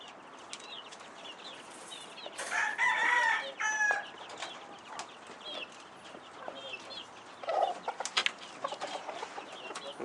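Backyard chickens, including pure-bred pullets, crow and cluck in a small home coop; a clear rooster crow rises near the start, followed by scattered clucks and a softer call later over quiet outdoor background.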